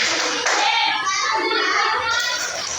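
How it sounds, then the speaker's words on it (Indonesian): An Indonesian-language class claps together in the 'tepuk pintar' chant, dense and steady hand claps filling the room with children's voices mixed in throughout. "kita kasih tepuk pintar untuk kalian"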